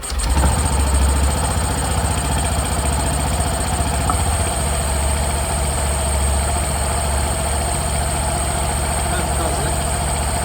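A Honda Dio scooter engine starts and settles into a steady, buzzing idle, running continuously up close at an even pitch.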